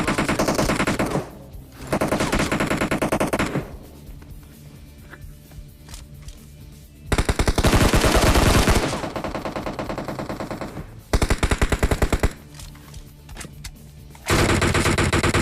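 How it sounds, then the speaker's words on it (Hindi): SCAR rifle fire in PUBG Mobile Lite gameplay, with loud bursts of rapid automatic gunshots that alternate with quieter stretches of game ambience and distant shots, with no talk. "पीछे आपको स्कारल के गनशॉट की आवाज आ गई होगी"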